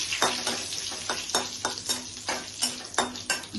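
Cumin, cardamom and bay leaf fry in oil while a spoon stirs the pan in a regular rhythm, each scrape rising above a steady close sizzle.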